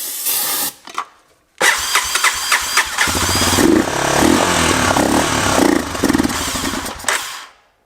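An old Honda trail motorcycle, abandoned for 37 years, cranks in short bursts before its engine catches and runs with a ragged, close mid-pitched idle that cuts off at the end.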